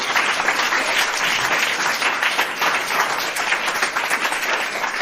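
Steady audience applause at a live podcast event, many hands clapping continuously at moderate volume throughout, with no voices over it.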